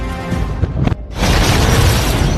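A loud, deep boom from an explosion destroying a base, briefly cut to near-silence and then followed by a sustained roaring rumble.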